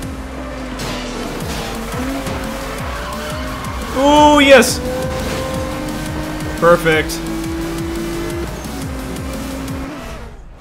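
A Nissan GT-R tears through a medium sprint race in Need for Speed Most Wanted (2012), its engine droning steadily as tires squeal in two sharp skids, with an excited voice talking over the action.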